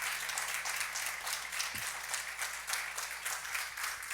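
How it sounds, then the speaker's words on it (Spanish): A church congregation claps loudly and steadily for several seconds in a reverberant hall, with brief faint voices underneath. "¿Le parece si le da palmas al Rey de Reyes y Señor de Señores fuerte?"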